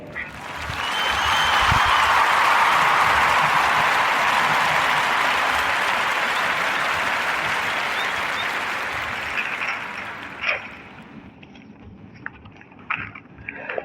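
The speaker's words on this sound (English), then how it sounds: "Clap it up for Bulldog Bikes and Jimmy Mack." A podcast audience applauds loudly and continuously for several seconds, the clapping fading into a few scattered claps and small knocks at the end.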